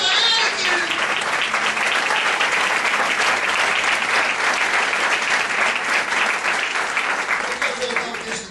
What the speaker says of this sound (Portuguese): Aplauda Ele, querido.